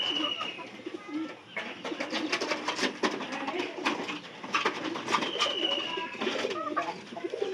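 Pigeons coo close by in a village loft, soft repeated throaty calls overlapping in a steady rhythm, with faint chirps and rustling around them.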